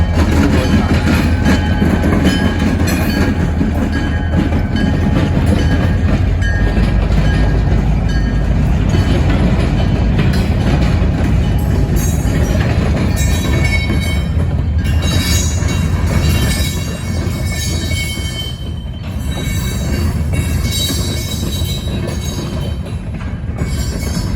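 A CSX freight train with a caboose rolls past close by. Its steady rumble, wheel clatter and squealing wheels carry on throughout, with no talk.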